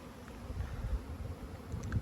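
Honey bees in a mass orientation flight buzz around the hives of an apiary in late morning, a steady, low, diffuse hum from many insects with no talking.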